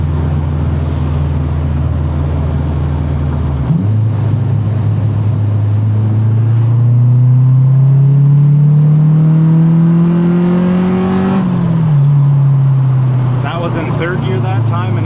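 A turbocharged Honda Civic accelerates hard through the gears, engine note climbing steadily with a clear shift break early on, loud and close, with someone talking briefly over the run.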